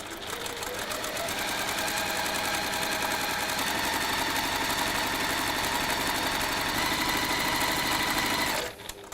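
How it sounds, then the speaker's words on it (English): A sewing machine stitches fabric a quarter inch from marked diagonal lines, running in one steady, close, rapid whirring hum for several seconds before stopping abruptly near the end. "we're going to sew 1/4 inch either side of those diagonal lines"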